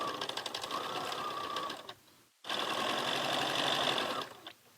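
A sewing machine stitches fabric pieces in quick, even bursts, pausing briefly partway through before running steadily again, close and fairly quiet.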